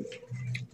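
Racer pigeons in a fancy breeding loft give a low, sustained coo lasting under a second, close and fairly soft, with no talk over it.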